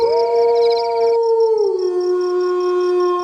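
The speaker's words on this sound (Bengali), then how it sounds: "এবার তার সঙ্গে শেয়ালের ডাক যোগ হল।" Jackal howling at night, a long sustained tonal wail that slides down in pitch, with crickets trilling faintly behind it.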